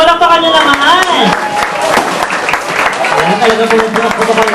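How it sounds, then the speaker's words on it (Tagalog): Guests clap at a first birthday party as the celebrant is presented, a loud mix of handclaps under a host talking over a microphone and cheerful voices. "Palakpakan niyo naman."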